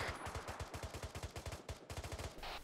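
Rapid automatic gunfire from ArmA 3 rattles in a dense, steady burst of sharp shots, with a brief break near the end before the firing resumes.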